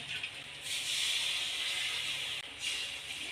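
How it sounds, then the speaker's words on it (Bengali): Water hits a hot pan of frying spices and bursts into loud, hissing steam, sizzling in two close surges with a short break between them. "এবার ওর মধ্যে জল দিয়ে দেব"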